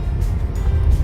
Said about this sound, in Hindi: पूरा ट्रैफिक चल रहा है।